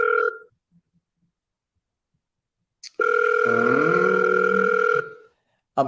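An electronic phone ringing tone from a power dialer calling app sounds briefly, goes silent, then returns for a steady two-second ring before cutting off.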